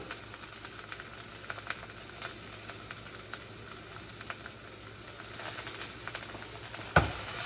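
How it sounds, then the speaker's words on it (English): Garlic sautéing with tomatoes in a pan of pasta: a steady, soft sizzle runs throughout, with light stirring scrapes and a sharper clatter near the end. "at the end, we're gonna go ahead and saute our garlic since garlic tends to cook a little faster and burn up"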